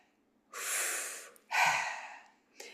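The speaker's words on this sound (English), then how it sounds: "And as you continue taking the deep breaths through" Two long, deep breaths drawn and released through the mouth during a guided breathing session, each a loud airy rush lasting about a second, with the start of a third at the end and no talking.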